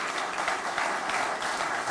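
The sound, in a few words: concert audience applause for musicians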